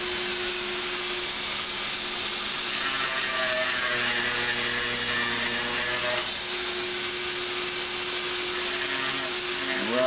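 A handheld rotary tool with its bit angled into a carving whirs in a steady, continuous high-pitched drone. It stays close and even throughout, with slight shifts in pitch as the bit bites into the material.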